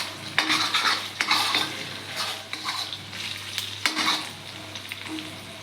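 A spatula chops an omelette into pieces in a hot pan for street-style egg noodles: repeated sharp metal scrapes and taps over a constant close sizzle, with no voices.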